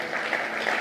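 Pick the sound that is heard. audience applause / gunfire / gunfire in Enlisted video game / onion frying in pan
audience applause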